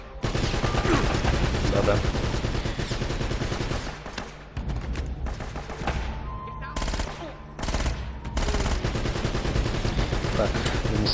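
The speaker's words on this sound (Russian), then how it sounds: "Ну тут, судя по всему, пулемет, да?" Rapid bursts of machine gun fire in the action game Uncharted: Drake's Fortune, loud and sustained with brief gaps, mixed with game music and someone talking briefly over the shooting.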